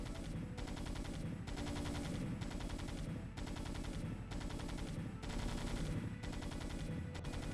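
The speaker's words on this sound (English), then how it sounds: "It's really easy to observe this on a pair of Goliaths, because their attack sounds repeatedly synchronize and desynchronize over time" Two Goliath units attacking in StarCraft: Brood War, their rapid machine-gun bursts repeating in a dense, loud chatter that drifts in and out of sync, with brief gaps between volleys and no voices.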